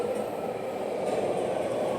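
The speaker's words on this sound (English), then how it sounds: "That's a train." A passing train gives a steady, continuous rumble and rolling rail noise, fairly loud and constant throughout with no talk.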